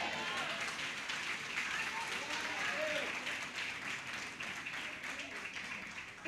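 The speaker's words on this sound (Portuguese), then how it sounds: "aplauda ao Senhor" A church congregation applauds in a dense, continuous patter of many hands during a worship service.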